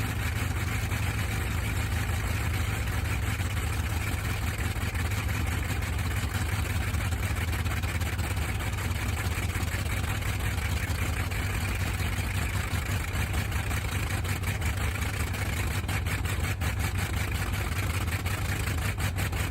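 A WWII-era sleeve-valve radial aircraft engine runs on a static display stand, a steady, loud, low rumbling drone with a continuous, even throb and no pauses or voices.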